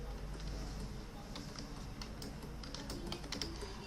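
Urdu text being typed on a computer keyboard, a continuous patter of close, rapid key clicks with a few sharper taps, steady for about four seconds with no talking.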